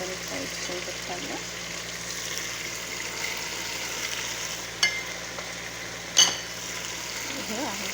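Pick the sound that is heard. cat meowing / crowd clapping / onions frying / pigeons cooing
onions frying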